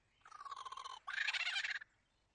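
A lyrebird imitates a kookaburra call in two short, raucous, chattering bursts lasting about two seconds, fairly quiet and alone.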